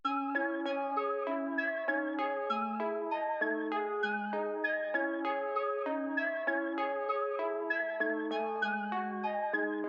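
Arpeggiated trap melody from the Cactus preset in FL Studio: bright, bell-like synth notes rippling up and down in a steady, continuous pattern, loud and alone throughout with no voices.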